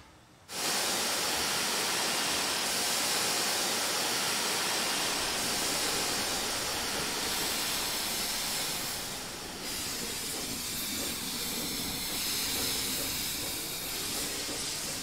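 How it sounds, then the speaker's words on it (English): Steam locomotive air compressor panting on a 2-6-0 Mogul in Train Simulator Classic, a loud steady hiss that starts abruptly and continues for the whole stretch, easing slightly partway through. "Brakes off, panting air compressor."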